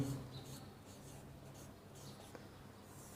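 Pen writing numbers on paper during a math lesson, faint scratchy strokes close by in a quiet room, with a sharp thump at the very end.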